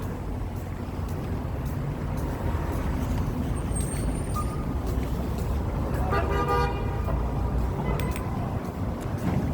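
Downtown Michigan street traffic, a continuous roar of passing cars with a car horn toot and an air-brake hiss partway through, close and loud.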